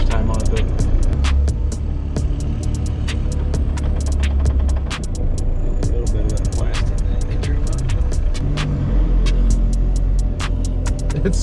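A diesel-swapped Toyota Tacoma pickup engine idles with a low, steady throbbing rumble and scattered ticking, loud and close, while a person talks faintly.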